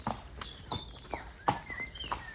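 Horses walking across a stable yard, hooves clip-clopping in an irregular series of sharp, fairly close knocks, with faint birdsong in the background.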